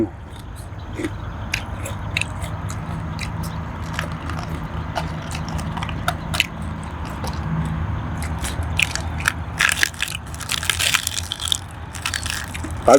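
Close crunching and biting while eating a large pickled crab full of roe, outdoors in a countryside setting, a steady run of crisp bites and chewing with bursts of sharper crackles.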